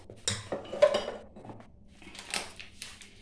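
Henna powder and egg being mixed in a bowl, two or three soft scraping and clinking strokes of a utensil against the bowl, close and fairly quiet.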